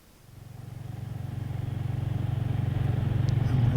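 A Royal Enfield Hunter motorcycle rides along an open road, its single-cylinder engine thumping in a steady pulsing rhythm that grows louder as it accelerates, heard close and alone.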